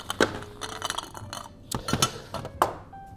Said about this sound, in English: I'm gonna add just a touch more ice to my glass.